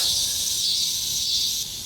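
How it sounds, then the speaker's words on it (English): Cicadas buzzing in Kansas, a steady, bright, high drone that holds evenly throughout and softens slightly at the end. "cicadas."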